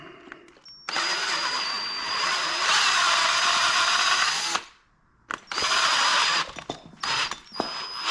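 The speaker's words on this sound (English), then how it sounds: "So it calls for a 1/4 inch drill bit" Power drill with a 1/4 inch bit boring into a 1991 Kawasaki KX250 engine case for an M6 helicoil, a loud, steady whine running about four seconds, a brief pause, then shorter bursts of drilling.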